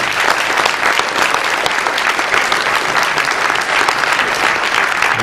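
A crowd at a crossword puzzle tournament discussion applauds loudly and continuously, a thick, even roar of many hands clapping with no pause throughout.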